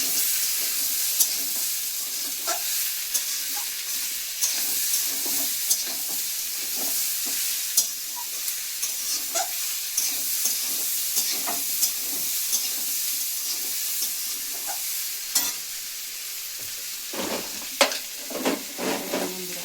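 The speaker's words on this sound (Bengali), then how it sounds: "এবারে একটু ভাজা ভাজা করে নিতে হবে" Chicken sizzles steadily in a hot pan, loud and close, with repeated scraping and clinking of a utensil stirring throughout.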